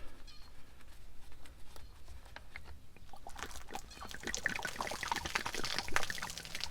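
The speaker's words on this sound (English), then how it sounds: "I'm going to dump some on the ground, but this is mainly water" Mostly water rinsed from a sprayer boom splashes and patters onto the ground, starting faint and growing louder and more spattery toward the end.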